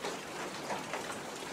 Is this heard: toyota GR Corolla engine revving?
no